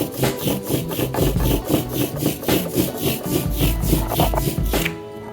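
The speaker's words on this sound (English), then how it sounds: "you want to hear that noise to know that your ink is evenly spread onto your" A printmaking ink roller rolls back and forth over ink on glass, making a rhythmic, sticky rasping sound in steady repeated strokes, close and fairly loud.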